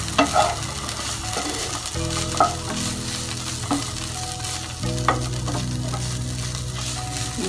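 Karadi bhaja fritters sizzle steadily in a pan of hot oil, with occasional stirring scrapes and clicks breaking the constant frying hiss; no one speaks.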